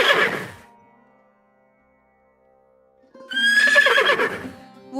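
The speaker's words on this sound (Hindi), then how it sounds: "इसी दौरान वहां से एक घुड़सवार गुजर रहा था।" A cartoon horse carrying a rider gives a bright neigh, then near-silence, then a louder, longer whinny with a trailing snort as it passes.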